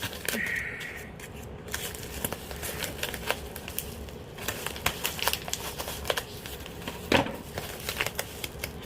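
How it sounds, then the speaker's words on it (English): Scissors snip and crinkle through a plastic mailer, with rustling and crackling handling noises and a sharper cut near the end, close by. "Got my scissors. Open this bad boy up."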